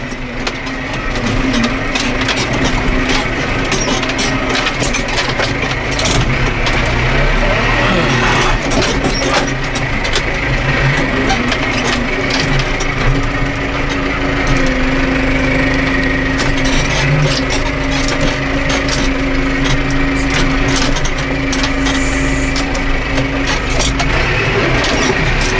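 A tractor engine runs loud and close while clearing out a trailer in a farmyard. It holds a steady heavy drone, with constant scraping and crunching of material mixed in throughout.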